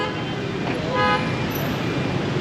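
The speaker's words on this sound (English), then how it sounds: "Like to honk the horns around here, don't they?" Car horns toot in the street traffic of Hanoi, a couple of short, near honks over a steady roadway rumble of engines and passing vehicles.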